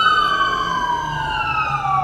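A loud emergency siren wails steadily as the vehicle passes close by, its tone gliding downward in pitch as it moves away, with no talk over it.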